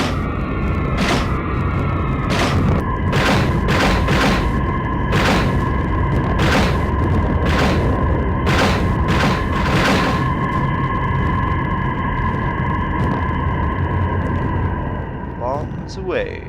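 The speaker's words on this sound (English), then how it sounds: "Bombs away." Bombs dropped from a bomber aircraft in the Aces High flight game explode as a rapid string of a dozen or so sharp booms, all set over a constant droning engine hum.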